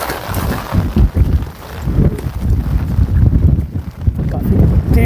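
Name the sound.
strong wind blowing at a hilltop fort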